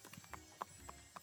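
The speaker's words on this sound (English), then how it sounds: "He's arriving at school on a horse?" Horse hooves clop in a steady rhythm with a short whinny, in a dating simulator game where Colonel Sanders rides up to school; several crisp, evenly spaced hoofbeats stand out clearly.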